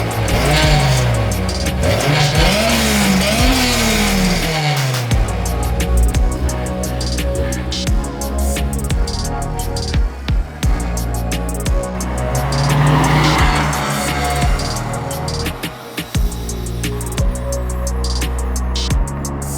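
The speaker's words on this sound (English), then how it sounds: "eventually I just decided to straight pipe my car" A straight-piped car engine revs loudly and close up, rising and falling in repeated sweeps with a rough, raspy exhaust note and sharp crackles, continuous for the whole stretch with no talking.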